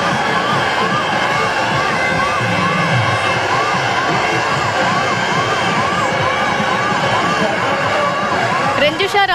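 Ambulance siren wailing steadily through a dense, noisy crowd at a Rang Panchami festival in Indore, Madhya Pradesh, the rising-falling tone sustained loud over constant crowd roar and cheering.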